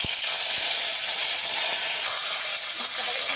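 Washed neem leaves fry in hot oil with a loud, steady, close-up hissing sizzle that stays constant throughout.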